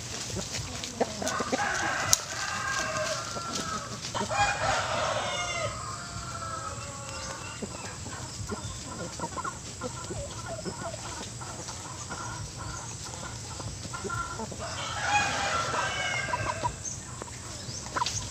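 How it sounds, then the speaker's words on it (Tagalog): Sampie native chickens cluck and chatter continuously at a moderate distance, with roosters crowing now and then over a busy farmyard background. "yung mga manok natin ay talagang hindi sila mag-aaway-away"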